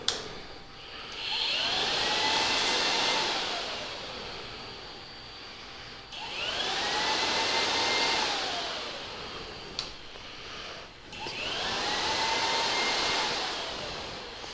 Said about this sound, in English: Number 51 is the radiator fan motor relay. That's actually going to actuate the fan itself.